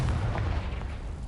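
A single Confringo blasting spell explosion from the Hogwarts Legacy game, setting dry vines alight: a loud, dense, low rumbling burst that fills the whole moment without any break.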